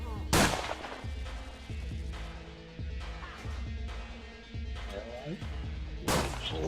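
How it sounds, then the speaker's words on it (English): An incendiary grenade launch sound effect in a Starfinder tabletop game, a sharp loud blast at the start and another near the end, over a steady low rumbling bed with voices talking. "Gonna be launching an incendiary grenade."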